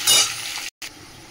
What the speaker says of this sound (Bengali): অল্প করে হলুদও দিয়ে দিলাম, দিয়ে আলুটা ভেজে নেব